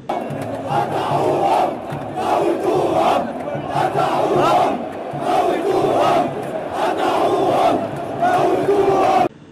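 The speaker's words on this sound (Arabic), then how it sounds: "الجماهير كلها بتهتف بالهتاف المرعب" Football supporters chanting in unison inside a stadium on a trophy night, a loud, dense crowd roar that swells in rhythmic waves throughout.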